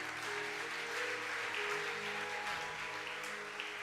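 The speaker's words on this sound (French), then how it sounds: "On acclame le Seigneur." A church congregation applauds during a Sunday service, the clapping dense and steady throughout, with no voices heard.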